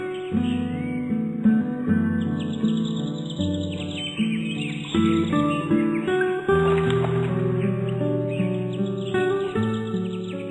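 Sweet, continuous baya weaver bird song with bright chirps and trills, clear and fairly close, repeating in varied phrases without any talking.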